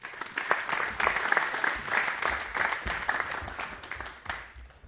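An audience applauds young athletes headed to a world championship, a steady, dense wash of clapping that carries on without a break for about five seconds.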